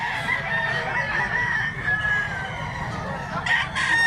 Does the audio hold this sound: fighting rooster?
yes